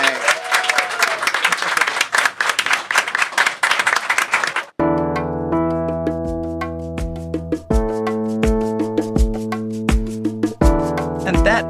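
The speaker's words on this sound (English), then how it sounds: "Give yourselves a round of applause." A live podcast taping audience bursts into loud, dense applause for about five seconds, then the clapping gives way abruptly to music.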